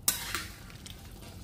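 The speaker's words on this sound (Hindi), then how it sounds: "अब इसे हम मिला लेते हैं।" A spoon stirs chicken curry in a pan on low flame, giving a couple of quick metal scrapes followed by soft, close sizzling.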